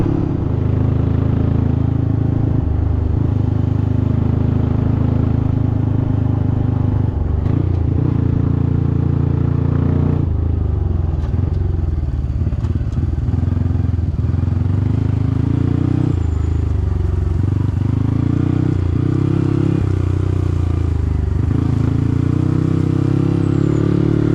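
A Honda CT125 motorcycle being ridden on a trail ride, steady loud engine drone with shifting pitch and occasional clatter, continuous and close for the whole stretch.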